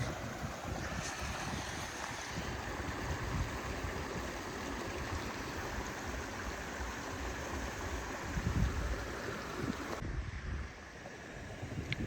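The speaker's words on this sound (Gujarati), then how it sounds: "પાણી ખળખળ વહી રહ્યું છે" Water rushes and gurgles in a steady, dense wash of noise that runs unbroken for about twelve seconds and eases slightly near the end. No voices are heard.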